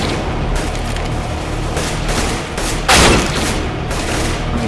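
Continuous gunfire fills a video game battle, dense loud shots and bursts rattling throughout with a sharper, louder blast near the middle.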